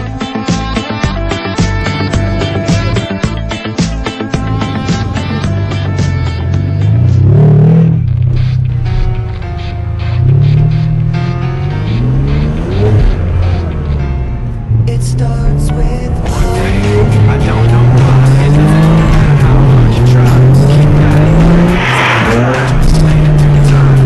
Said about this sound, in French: voici pour vous un tour de circuit du Yasmine Hammamet en Maranello